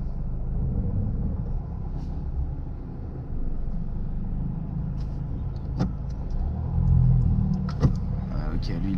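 A car moves off during a driving lesson on the way to a motorway, its steady engine rumble and road noise heard from inside the cabin, with occasional small clicks and faint voices in the background.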